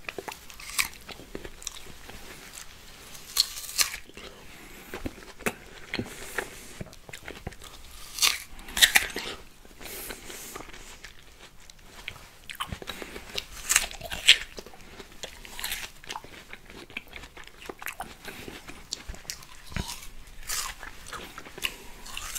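Crisp bites and wet crunching chews on ripe, juicy Piel de Sapo (Santa Claus) melon, with repeated close-up bites followed by steady chewing in a quiet setting, no talking.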